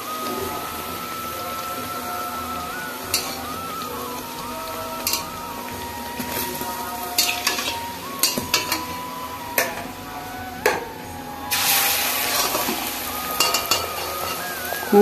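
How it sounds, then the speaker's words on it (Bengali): Luchi puffed flatbreads fry in hot oil with a continuous crackling sizzle, marked by scattered pops and taps and a louder surge of bubbling near the end. "এবার আমি এক এক করে সব লুচিগুলো ভেজে নিচ্ছি।"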